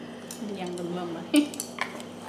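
Seasoned chicken wings tossed in a bowl for fried wings, with soft wet squishing and a few sharp clinks of a utensil against the bowl, close up.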